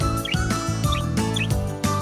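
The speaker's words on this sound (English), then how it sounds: "Budgies make chirp, whistles, and squeaks to say hello, sing, or show they're happy." Budgie chirping in a quick series of bright, high tweets and short whistles, close and clear over a light musical backing, about four bursts in two seconds.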